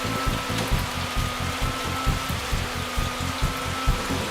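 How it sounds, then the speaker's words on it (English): Hail or wet snow pellets fall during an early-October snowstorm at Port Elgin, making a continuous hissing patter with a faint rhythmic low thumping underneath, steady and fairly loud throughout. "Looks like a little bit of hail"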